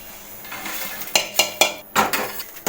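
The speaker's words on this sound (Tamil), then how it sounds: "மிளகாய் நல்லா வறுத்துட்டோம் இப்போ ஒரு பிளேட்டில் கொட்டிடுவோம்" Roasted red chillies being tipped from a pan onto a plate, producing a series of sharp metallic clinks and rattling scrapes, close and fairly loud over a faint background hiss.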